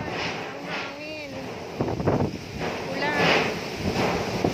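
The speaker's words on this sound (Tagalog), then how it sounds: "Kahinain nyo na po ang ulan. Ang hangin." Typhoon Rolly's strong wind gusts and rain batter a home with a metal sheet roof, a rushing roar that swells and surges while a person speaks anxiously nearby.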